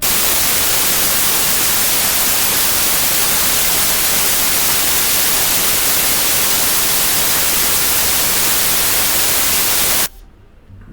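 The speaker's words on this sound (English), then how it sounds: "Sleeping to white noise." Steady broadband hiss of white noise played for sleeping, loud and unbroken for about ten seconds before cutting off abruptly near the end.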